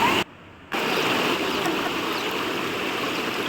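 Clear water flows steadily near Ramanathi Dam, a continuous broadband rush with a sudden brief cutout near the start before the even flowing sound returns.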